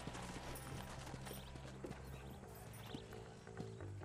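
Horse hooves clip-clop steadily in Red Dead Redemption, a rhythmic run of close, moderately loud hoofbeats over a constant background game hum, with no talking.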